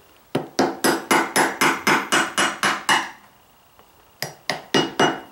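A vintage Collins splitting axe head on a wooden anvil stand is driven off its handle with a hammer: a rapid run of about eleven sharp, ringing metallic blows, a short pause, then five more, close and loud.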